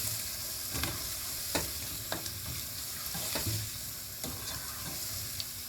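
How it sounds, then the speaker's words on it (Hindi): Chicken fries in a pan with mixed masala spice, a continuous close sizzle with regular scraping strokes of a spoon being stirred through it, and no talking. "अब इसमें मैं 1 चम्मच मिक्स मसाला डालूंगी, थोड़ा सा फ्राई करेंगे।"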